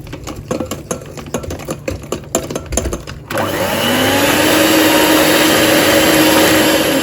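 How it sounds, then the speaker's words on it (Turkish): Electric mixer whirs loud and steady as it whisks whole wheat cake batter with vanilla and baking powder, starting abruptly after a few seconds of clattering and rattling. "çırpalım bakalım."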